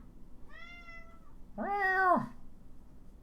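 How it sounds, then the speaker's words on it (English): A cat gives two meows up close: a brief soft one, then a longer, louder, rising-and-falling call with a faint trill, in a quiet room. "We're gonna start to hear the purr meow."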